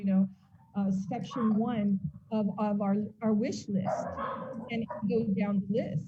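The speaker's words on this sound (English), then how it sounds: "Sorry, that's my dog." A pet dog yips and barks a few times in the background of an online meeting, the barks mixed under steady close talking.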